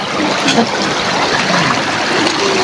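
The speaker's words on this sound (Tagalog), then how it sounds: "Ang lakas ng tubig." Strong current of a cold spring-fed river in Karayan, Abra rushes past, a steady broadband wash of flowing water heard up close, even and continuous for a few seconds without talk.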